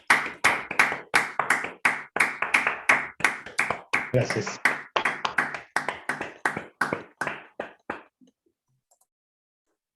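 Over an online talk, someone claps alone in a steady, even rhythm of about twenty sharp claps that stop abruptly, followed by near silence. A voice briefly speaks during the clapping.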